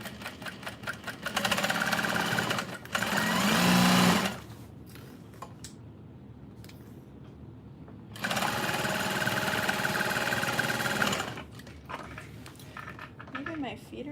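Sewing machine running two sustained bursts while stitching custom orders, a steady whirring motor drone with quieter pauses between runs where a voice talks.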